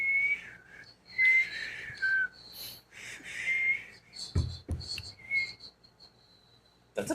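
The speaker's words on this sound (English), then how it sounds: "I have my normal whistling" A person whistles a few short, wavering melodic phrases, with pauses and some breathy, noisy sounds between them, close and fairly loud.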